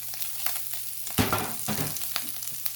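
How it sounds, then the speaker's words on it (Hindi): Chicken samosa filling of onion, carrot and cabbage stir-fried in a pan, with a steady close sizzle, scattered stirring scrapes and a louder surge of frying partway through. "अब हम इसको मिक्सिंग करते हैं, सब चीज़ें इकट्ठी भून जाएंगी।"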